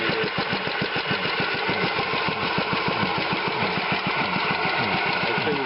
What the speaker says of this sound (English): Look at how slow that's idling.